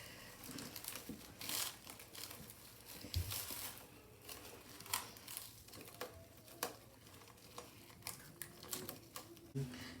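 Cardboard box torn open by hand, a run of crinkling, tearing and scraping bursts at close range, with scattered sharp rips and rustles over about ten seconds.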